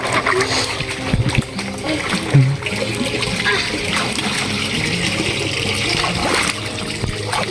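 People rinse thick mud off themselves with water after digging for clams in a mudflat, with repeated splashing and trickling close by and voices in the background.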